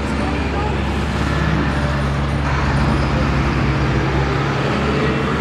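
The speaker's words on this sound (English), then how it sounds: "Sorry about the lorry." A lorry driving past on a road, a broad, steady roar of engine and tyres that swells slightly mid-clip and fills the whole stretch.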